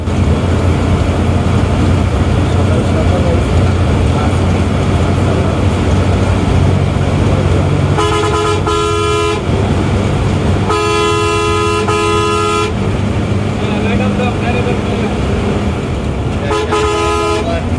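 Boleshwar Paribahan bus driving at speed, a loud constant engine and road roar with repeated bursts of horn honking; no talking.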